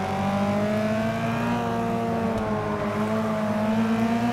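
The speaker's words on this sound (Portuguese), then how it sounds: "parece que sai meio fraco o motor" A Porsche 718 RS 60 engine in Forza Motorsport drones at a steady, fairly constant pitch, loud and continuous, with no talking.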